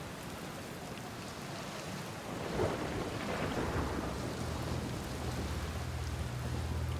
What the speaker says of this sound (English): Very stormy planet.